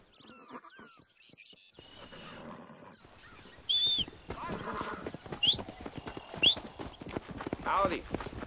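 Horse hooves clip-clop in the Western video game Red Dead Redemption, a brisk run of hoofbeats with sharp high squeals and effects cutting in over it.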